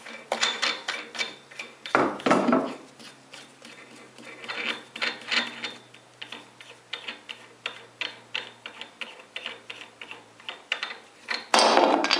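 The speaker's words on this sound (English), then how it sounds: "just turn the wrench in the direction the blade rotates. So in this case, it rotates this way. So I rotate the wrench this way." A wrench turns the arbor nut on a 14 inch radial arm saw, giving close, rapid metallic ratcheting clicks and clanks in bursts, with louder rattles near the start and end and no talking.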